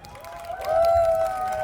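Audience at a country and rock picnic in Kamesznica breaking into applause and cheers for the band, swelling after a moment with a whistle riding over it.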